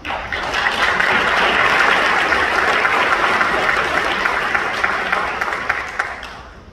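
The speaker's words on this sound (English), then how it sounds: "Another round of applause for these gentlemen." Sustained applause from an audience honoring men being recognized, including a Predator drone maintainer, a dense steady round of clapping that holds loud for several seconds before tapering off slightly at the end.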